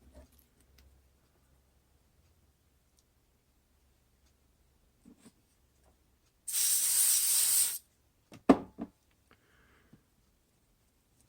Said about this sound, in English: I am using my WD-40 contact cleaner